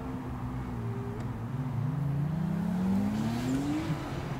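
A BMW E30 turbo engine climbs in pitch under acceleration during a slalom run, a distant, fairly faint rising drone with a hint of tire noise and no clear speech.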